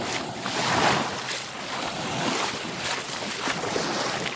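Gulf waves wash onto the shore at Fort Morgan in Gulf Shores, Alabama, making a soft, continuous rushing surf that swells and recedes gently, with a light wind in the background.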